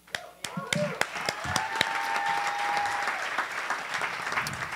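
Audience clapping and applause at a 40th birthday roast fills the room, starting in scattered claps and swelling into sustained, fairly loud applause with a few voices over it.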